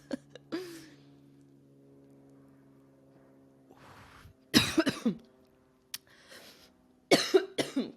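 Several harsh, close coughs in short bursts, separated by quiet pauses with a low hum underneath.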